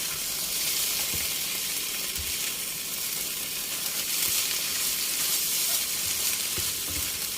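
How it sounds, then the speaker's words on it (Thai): Bamboo shoots and eggs stir-fry in a hot pan with basil, a continuous moderate hiss and sizzle with soft utensil scrapes now and then, and no talk. "พอไข่เริ่มเซตตัวนะคะ ก็เริ่มผัดได้เลยค่ะ"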